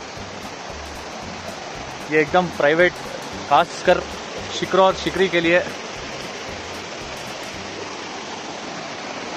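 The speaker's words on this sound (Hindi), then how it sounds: "प्राइवेट वाटरफॉल्स एक्सपीरियंस करने को मिलेगा।" A private waterfall on a trek near Kodaikanal keeps up a steady broadband rush of falling water throughout, with someone speaking briefly over it in the middle.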